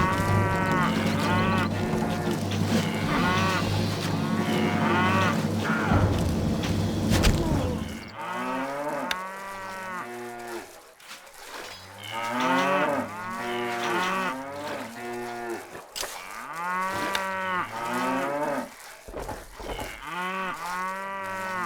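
Cattle in the Stronghold strategy game moo repeatedly, a series of loud drawn-out lowing calls overlapping one another, first over a low steady hum and then more sparsely across the rest of the stretch.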